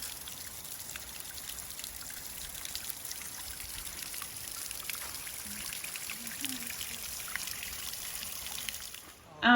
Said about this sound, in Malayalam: ഇത് കാട്ടുചോലയെന്ന് വന്നുകൊണ്ടിരിക്കുന്ന വെള്ളമാണ്, അത് നിർത്താൻ പറ്റത്തില്ല, അതിങ്ങനെ ഒഴുകിക്കൊണ്ടേയിരിക്കും.